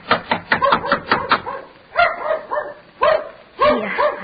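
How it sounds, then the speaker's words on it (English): A dog barks in quick repeated bursts, loud and close, then yips and whimpers in a few spaced calls. The setting is an old-time radio drama about Christmas Day, with no talk over the barking. "that sounds like Mickey barking"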